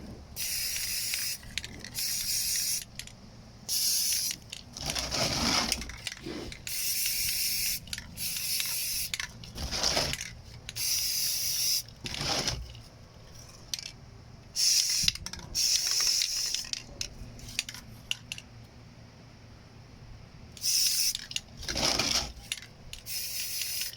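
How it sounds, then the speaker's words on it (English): Gray spray paint is misted lightly onto foam terrain for a sci-fi miniature game, arriving as a steady series of hissing bursts, each a second or two long, separated by short pauses, close and clear with no talking. "So I'm going to give it a light spray."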